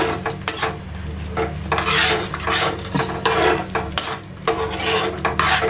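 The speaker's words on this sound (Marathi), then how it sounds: "जरास मसाल्यांना छान असं तेल सुटूसपर्यंत परतून घेऊया." Masala being sautéed in oil in a pan for a Malvani-style bangda (mackerel) fish curry, with steady close scraping and stirring strokes over a soft sizzle, no talking.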